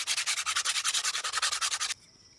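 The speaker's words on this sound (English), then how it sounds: "the bottom side, I just give all of the edges a quick sanding, not as thorough as the top" Hand sanding along the edges of wooden pieces for 3D wall art: quick, even back-and-forth rasping strokes in a steady rhythm, close up, stopping abruptly near the end.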